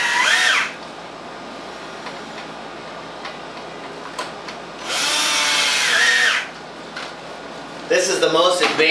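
Ozone generator fitted with a 1.5 horsepower blower, a loud whooshing roar in bursts near the start, middle and end, with steady lower machine noise between them.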